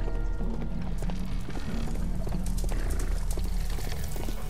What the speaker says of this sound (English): This horse was blinded by the flag,